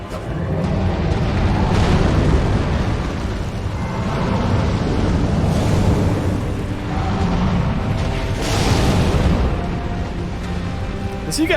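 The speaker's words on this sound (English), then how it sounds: "Does he get hurt by that explosion?" Explosion in the action game Elden Ring, a sustained loud rumbling blast with repeated bursts across the clip, under faint talk.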